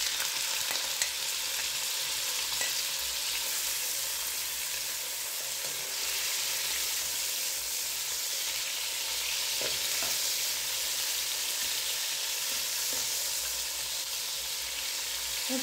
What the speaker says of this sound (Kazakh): Осылай етімізді жақсылап қуырып аламыз.